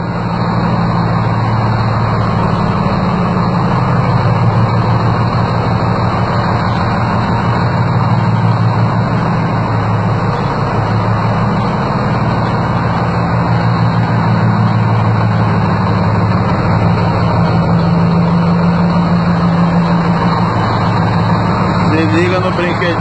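The engine of a 1959 GMC bus idles in a low, steady rumble that holds for over twenty seconds, close and loud, with people talking over it.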